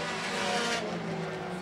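Thunder 4 Mini race cars circling a track together, a steady loud engine roar with a slight swell as the pack passes, no voices.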